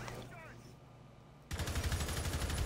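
Gunfire breaks out in Rainbow Six Siege, a sudden loud burst of rapid shots after a quieter stretch with faint game sounds and a voice talking.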